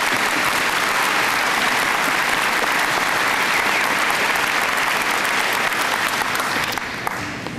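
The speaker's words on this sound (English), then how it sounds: "Let's give him another round of applause." Sustained, loud applause from a large audience at a graduation ceremony, dense steady clapping that holds evenly throughout before easing slightly at the end.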